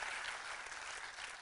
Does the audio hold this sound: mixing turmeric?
no